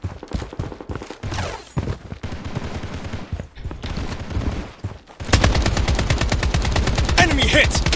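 Shotgun gunfire in the video game Project BloodStrike, with bursts of shots during the first five seconds and then a dense, loud run of rapid blasts to the end.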